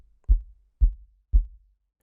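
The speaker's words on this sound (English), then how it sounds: "The soft kick on its own sounds like this." Three soft, deep kick drum thumps evenly spaced, low and round with a quick decay, isolated with nothing else playing.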